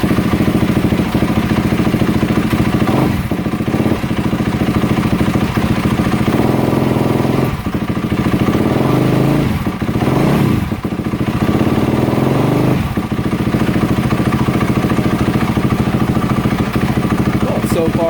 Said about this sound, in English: put the tank on and we can fire her up for a test fire